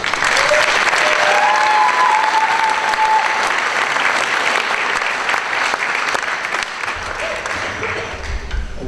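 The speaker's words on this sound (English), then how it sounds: "So I'd like to give him a round of applause." Audience clapping at a middle school music concert, a dense, loud, sustained round of applause that fades slightly toward the end, with scattered crowd voices underneath.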